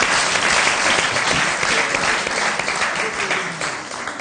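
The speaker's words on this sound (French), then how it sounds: "Est-ce qu'on peut l'applaudir, s'il vous plaît, on peut l'encourager?" Audience applause for an artist at a French-language stage show, a dense, steady wash of clapping that fills the whole stretch and thins slightly toward the end.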